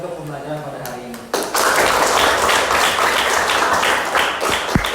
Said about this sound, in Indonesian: silakan untuk tepuk tangan sekeras-kerasnya untuk pembelajaran pada hari ini